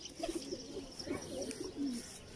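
A male Teddy pigeon coos close by in a series of soft, throaty, bubbling calls repeated several times over a faint background hiss.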